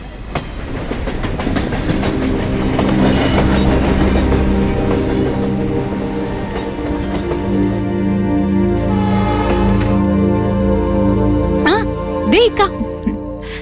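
Train running on rails inside a carriage, a steady loud rumble with rhythmic clickety-clack of the wheels throughout, brief squeals near the end.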